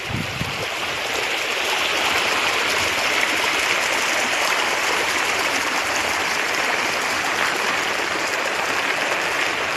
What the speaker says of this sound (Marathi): पाण्याचा आवाज बघा किती आवाज चाललेला आहे